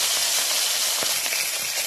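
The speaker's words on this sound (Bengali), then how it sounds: "আর মাছটা ভালো করে ভেজে নেব" Fish pieces fry in hot oil, giving a continuous, close, loud sizzle with scattered crackles and pops throughout, alone without any voices.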